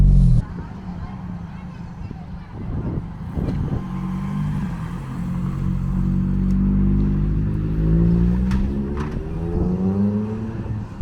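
A Ford Focus RS MK1 negotiating a mini roundabout, its engine heard from inside as a steady low drone that rises in pitch as the car accelerates away, with a few clicks and knocks in the cabin.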